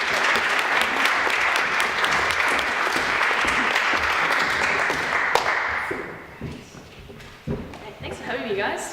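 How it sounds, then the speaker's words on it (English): Audience applause at a Sunday Assembly gathering, a loud steady crowd clapping that fades out toward the end, with a few footsteps and voices as it dies down. "give her a round of applause"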